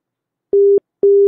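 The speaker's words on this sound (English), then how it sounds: "So this is the pair of tones. One is of on and off time same, but for the other on and off time are different." A telephone exchange signalling tone plays as two short, steady, mid-pitched beeps with uneven on and off timing, clean and loud against silence.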